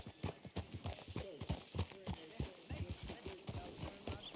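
Horse hooves in Red Dead Redemption 2, a steady rhythmic clip-clop of a mount moving along, quiet and mixed under a man's speech and game sounds.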